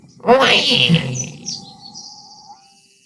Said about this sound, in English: this is the gray go-away bird.